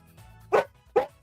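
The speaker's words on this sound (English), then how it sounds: "What are you barking at?" A dog gives two sharp, close barks about half a second apart, with quiet room noise in between.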